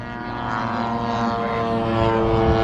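An electric RC 3D aerobatic model plane flies at an outdoor flying event, its motor and propeller giving a steady, droning whine that builds slightly in loudness, heard alone without talk.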